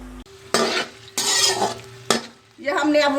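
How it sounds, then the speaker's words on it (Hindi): Onions dropped into hot oil in a pan for chicken pulao, loud close sizzling in bursts broken by short pauses, with stirring and utensil clatter against the pan. "ये हमने अब प्याज डाल दिए इसमें। इस प्याजों को हम अब ब्राउन कर लेंगे।"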